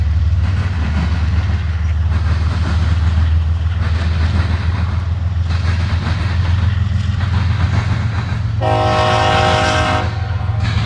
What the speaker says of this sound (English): There's another CSX way over yonder.